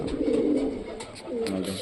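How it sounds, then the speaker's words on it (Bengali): Punjabi breeding pigeons coo in a steady, close, low murmur that swells and fades over the short stretch, with no pause in the cooing. "এগুলো মেন ব্রিডিং পায়রা।"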